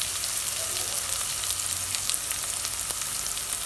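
Ginger-garlic paste, onion and spice powders such as turmeric and garam masala sauté in hot oil for a vegetable kurma, giving a steady, close sizzle and frying crackle with no talk.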